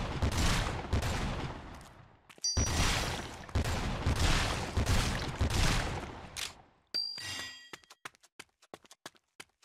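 Gunfire in Lollipop Chainsaw, with long loud bursts of rapid fire that break off abruptly, then a metallic ding and a quick string of sharp separate shots or clinks at the end.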